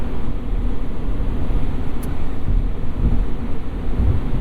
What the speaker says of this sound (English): all I can hear is this fan trying to heat up the cabin to 73